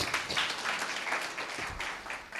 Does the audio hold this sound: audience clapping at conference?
yes